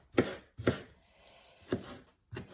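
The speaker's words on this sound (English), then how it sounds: "I'm gonna cut up the rest of the little onion that was left." A knife chops through a small onion on a cutting board in a home kitchen, four crisp separate chops at an uneven pace, close and clear with quiet pauses between.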